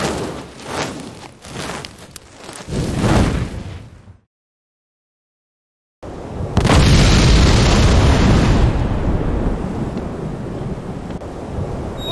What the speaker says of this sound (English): And this thing feels like a bomb.